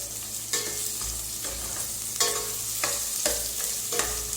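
Mustard seeds, onion and green chilli sauté in hot oil with a steady sizzle, punctuated by repeated scraping clacks of a spoon stirring the pan, close up and with no voices.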